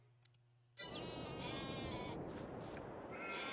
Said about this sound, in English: So now we have some sheep.